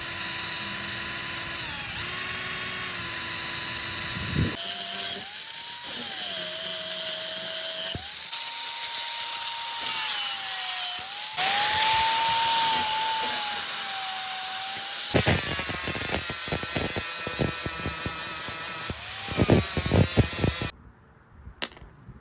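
A power tool cuts and grinds metal during a tilt bed repair, its whining pitch rising and dropping across several long passes, loud and close, with short pauses and a burst of rattling near the end.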